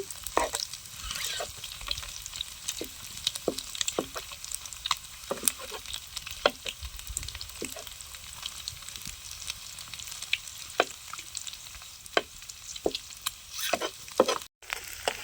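Egg for an egg roast is scrambled and fried in a pan, with a steady sizzle and frequent sharp scrapes and taps of a spatula breaking it up, close and fairly quiet.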